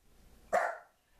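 A single short dog bark, sharp and fairly close, standing alone against a quiet background.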